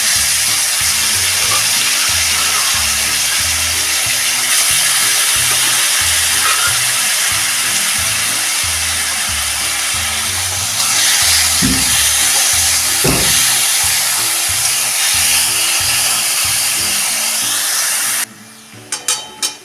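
Mashed carrot being stir-fried in a pan for carrot halwa, a loud continuous sizzling hiss with scraping stirring, ending abruptly with a few clacks.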